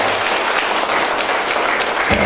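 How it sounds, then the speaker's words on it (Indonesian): Sustained, dense applause from a crowd at a company anniversary event, steady and loud throughout. "Tepuk tangan sekalian."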